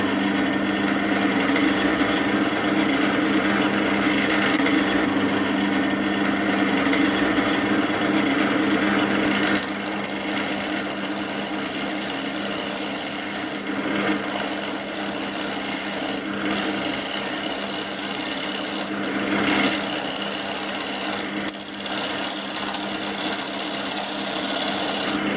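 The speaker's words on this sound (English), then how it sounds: "I'm just going to turn down this end so that I can reverse it and put it into a chuck." A wood lathe turns down the end of a bottle stopper blank, a steady, close, continuous rasping scrape of tool on spinning wood that shifts slightly in tone partway through, with a few brief pauses.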